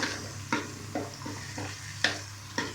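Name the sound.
ground spices added to frying chicken karahi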